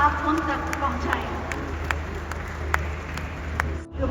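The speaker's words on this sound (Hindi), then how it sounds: "अपनी तालियों के प्रणाम आप उन तक पहुंचाएं" An audience at the ground-breaking ceremony of the 4th UP Global Investors Summit gives steady, sustained applause to welcome Prime Minister Narendra Modi, with a voice heard over the clapping.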